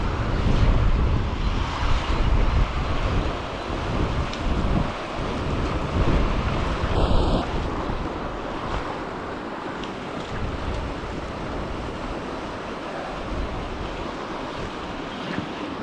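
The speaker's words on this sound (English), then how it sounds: "the wind is terrible." Strong gusty wind by the River Deveron buffets and roars continuously, close and loud, mixed with rushing water, with no talking.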